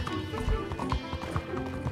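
Horse hooves clip-clop in a quick, uneven rhythm in the video game Red Dead Redemption 2, with a brief whinny from the skittish horse, loud and close.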